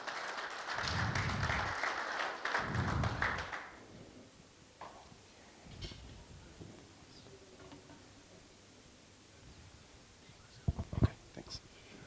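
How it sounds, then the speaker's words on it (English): A short burst of audience applause at a commodity buyers' breakfast as a speaker comes onto stage, moderately loud for a few seconds, then fading into quiet room noise with scattered soft knocks and rustles. "Let's give him a round of applause, ladies and gentlemen, as he comes onto stage to talk to us this morning."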